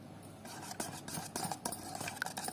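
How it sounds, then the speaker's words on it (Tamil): Beaten eggs being stirred with a utensil for egg paniyaram batter, with quiet, rapid tapping and scraping against a bowl in an irregular rhythm, close but faint. "இப்போ கலக்கலாம்"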